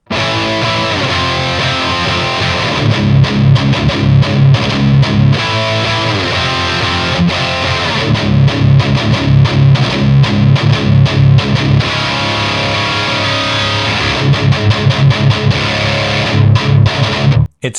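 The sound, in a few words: heavy distorted chugging on a custom Kiesel electric guitar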